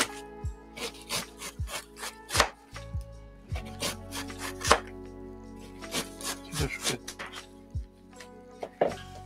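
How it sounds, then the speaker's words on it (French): Knife slicing finely through food on a cutting board, with a steady series of sharp, close chopping strokes in an irregular rhythm, no voices over it. "Non, celle-là, je vais essayer de la découper."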